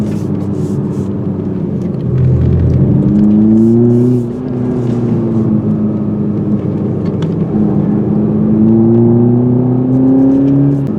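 A 2021 Toyota Supra with the four-cylinder engine accelerates hard from inside the cabin, its loud engine note climbing through the gears with rising, falling revs over road rumble.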